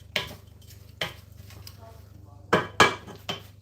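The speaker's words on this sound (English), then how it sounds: "Sorry about the noises, but we are cooking." Pots, pans and utensils clatter in a busy home kitchen during a live cooking session, several sharp metallic knocks separated by quieter gaps over a low steady hum.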